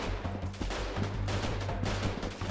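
Rapid bursts of gunfire rattle nonstop over a low droning hum in the video game Freeman: Guerrilla Warfare, the shots dense and overlapping as if from a distant firefight.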